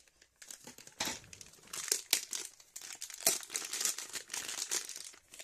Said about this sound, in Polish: Zapacho zapakowane w taką mocną dosyć folię